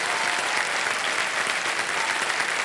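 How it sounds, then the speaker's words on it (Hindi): Studio audience on a televised quiz show gives loud, continuous applause welcoming guests, a dense, even wash of clapping throughout with no pauses. "बहुत जोरदार तालियों के साथ हम चाहेंगे कि इनका स्वागत किया जाए"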